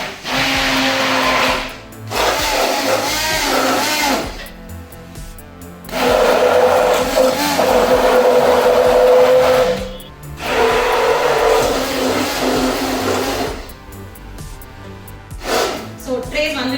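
A beater blender whirs loudly as it mixes camel milk soap batter, running in several long bursts with short pauses between them, and breathy sounds are heard during the breaks.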